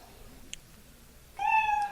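A single cat meow rises clearly after a near-silent stretch with a faint click, short and close, as a comedic sound effect.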